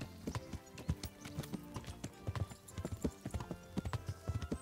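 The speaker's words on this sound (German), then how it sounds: "wir reiten auf unserem Pferd hier" Horse hoofbeats from riding in Kingdom Come: Deliverance fall in a quick, steady galloping clip-clop, close and prominent, with little talk.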